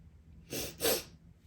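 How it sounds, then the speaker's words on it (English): Two quick, wet sniffs close to the mic, one right after the other, with no talking around them. "Sorry for my sniffling."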